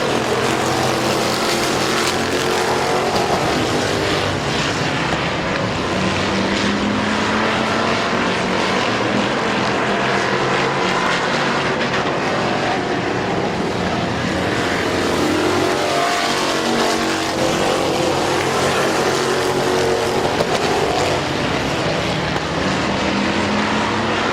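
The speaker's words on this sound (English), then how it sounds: "Now there's Cox sideways in turn 3, saves it" Race cars roaring around Midvale Speedway, a loud continuous wash of engines at full throttle, revving and droning as the pack circles the track with no break in the noise.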